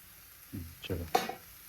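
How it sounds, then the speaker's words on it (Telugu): Curry leaves dropped into hot oil while making noodles at home, giving brief sizzling and crackling bursts over about a second, with a faint clink, close and fairly quiet. "కొంచెం కరివేపాకు అయితే వేస్తున్నాం."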